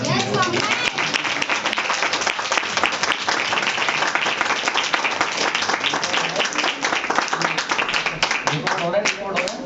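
A congregation at a ninth-anniversary healing ministry service applauds loudly and steadily, a dense wash of clapping that fills the whole stretch with shouts and voices mixed in throughout.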